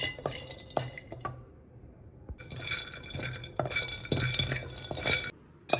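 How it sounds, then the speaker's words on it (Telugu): Peanuts roasting in a kadai, with dry rattling and clinking as the nuts are stirred and scraped around the metal pan, close and moderately quiet. "కడాయి పెట్టుకొని 1 టేబుల్ స్పూన్ అంతా పల్లీలు వేసుకొని వేయించుకోవాలి"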